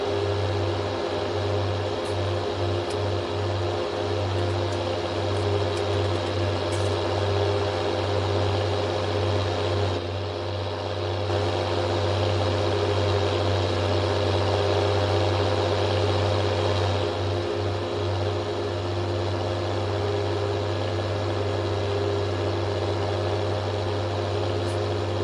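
A loud tractor engine in a farming video game drones continuously for some twenty-five seconds, a heavy low hum with faint fluctuations and brief dips, close and without voices.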